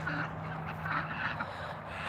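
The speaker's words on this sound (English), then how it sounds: "Up here are the ducks." Ducks quacking nearby during morning farm chores, a few short nasal calls over a steady low hum, close and moderately loud.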